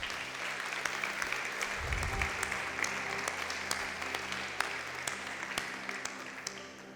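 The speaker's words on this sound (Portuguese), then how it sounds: "Você pode aplaudir o Senhor por isso?" A church congregation applauds, an even, continuous patter of many hands at moderate volume over a low sustained hum, fading slightly toward the close.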